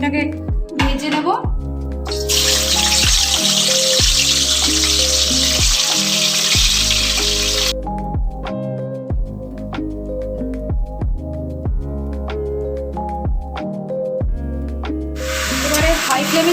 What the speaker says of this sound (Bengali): এবার আমি চিকেনটাকে ভেজে নেব।